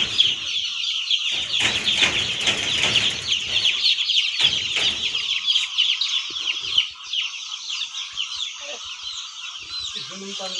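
A crowd of young chicks on their third day under brooder heating, keeping up a dense, shrill chorus of continuous peeping close by, with a few louder rustling bursts mixed in.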